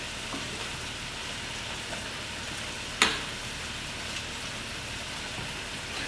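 Mushrooms fry in a pan for a pie filling, giving a steady broadband sizzle throughout with one sharp clatter partway through; there is no talk.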